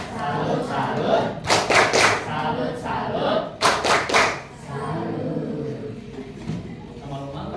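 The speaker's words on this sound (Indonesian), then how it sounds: "Tepuk salut." A classroom group performs a rhythmic salute clap, two sharp bursts of hands striking in a patterned sequence and punctuated by shouts, with a teacher's voice leading before and after.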